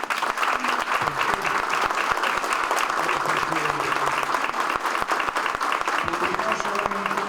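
Sustained, dense applause from a graduation ceremony audience at a national prosecutors' school, steady and full for several seconds with faint voices mixed in.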